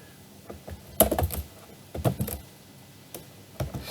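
Typing on a computer keyboard in a few short bursts of clicking keys with brief gaps between them, close and clear, with no voice.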